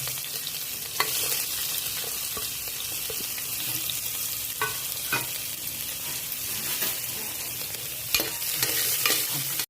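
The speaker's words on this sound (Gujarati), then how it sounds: "પછી બરાબર તતડે એટલે કાંદો નાખી દેવાનો" Chopped onion frying in hot oil as the tempering for palak dal, a continuous close sizzle with occasional stirring clicks and scrapes against the pan.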